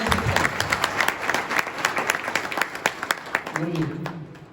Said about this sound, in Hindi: एक बार जोरदार तालियों से गुरुजी का स्वागत करते हैं।